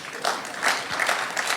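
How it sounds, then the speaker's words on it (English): Live audience applause from a comedy podcast taping, swelling in uneven bursts of clapping with scattered cheers, moderately loud throughout. "Wait until the applause dies down"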